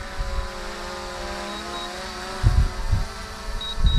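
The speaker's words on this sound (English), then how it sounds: "The drone took a little bit longer to land than I took to end the video." A WEFONE WF30 GPS brushless camera drone hums with a steady high-pitched rotor whine as it flies and comes in to land, with a few low thumps and buffeting bursts near the end.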